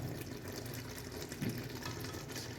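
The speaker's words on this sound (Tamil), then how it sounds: "ஓகே சிஸ்டர்ஸ், தண்ணி ஊற்றணும்." Water poured into a pot of Tamil Nadu style beef gravy, a steady close splashing stream that runs unbroken, with no voices over it.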